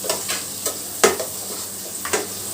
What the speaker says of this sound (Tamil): வெங்காயத்தை வந்து இப்போ நல்லா நம்ம வதக்கிடலாம்